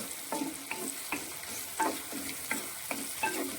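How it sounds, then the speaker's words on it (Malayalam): Something is sautéed in sesame oil in a pan for a Kerala kudampuli dish, a soft continuous sizzle broken by regular scraping strokes of the stirring spoon, close but fairly quiet, with no talking. "നന്നായിട്ട് ഇതിനെ വഴറ്റിയെടുക്കണം"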